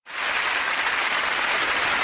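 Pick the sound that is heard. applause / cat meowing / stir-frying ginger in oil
applause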